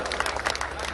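Audience clapping at a Hindi-Urdu poetry recital, a brief, dense burst of many hands applauding together, close and steady throughout.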